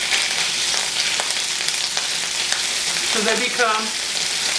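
Sliced kielbasa frying in a little oil in a pan, a continuous close sizzle with crackling pops, while a voice talks briefly over it near the end.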